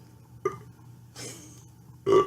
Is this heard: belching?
yes